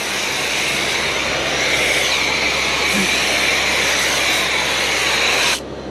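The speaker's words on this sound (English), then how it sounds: "Just spray the stuff on" A pressure-washer snow foam cannon sprays Jenny-Chem snow foam while farm machinery is washed, making a loud, steady, close hiss that runs unbroken before cutting off abruptly just before the end.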